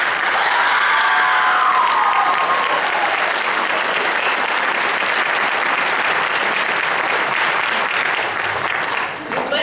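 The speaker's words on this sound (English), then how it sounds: "So can we give a round of applause?" An audience at a high school winter concert applauds loudly and steadily for several seconds, the clapping dense and sustained before thinning out at the end.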